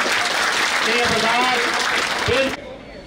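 Crowd applause at a protest gathering over a halted weekly market in the capital, a loud burst of clapping under a speaking voice that cuts off abruptly near the end.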